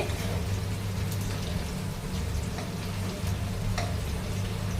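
Fish pieces fry in a shallow layer of oil in a pan, giving a steady, close, crackling sizzle with occasional brief pops and no voices.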